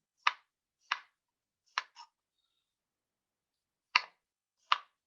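A knife cuts thin slices through a big zucchini, giving six crisp, isolated taps on the board with uneven gaps and silence between them.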